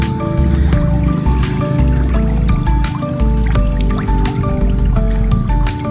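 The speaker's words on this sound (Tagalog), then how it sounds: "Maingay na pati yung pagkain nila, parang yung kumukulong tubig." Fingerling fish in a pond feed noisily at the surface, a dense wet patter of drips, splashes and bubbling like boiling water, loud and close.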